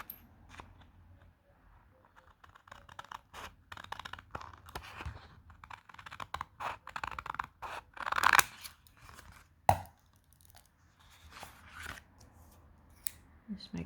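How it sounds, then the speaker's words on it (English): Scissors snip through a paper envelope being cut into a traditional Greek Tsarouhi shoe, sharp irregular cuts and crisp paper rustles close by, with a brief loud snip near the end and quiet talk in between. "Just cut that out."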